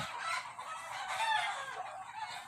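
Backyard chickens and ducks kept as farm birds, with a rooster crowing and hens clucking in a steady, busy chorus close by, no talking.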